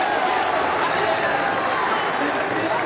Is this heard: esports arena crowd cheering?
yes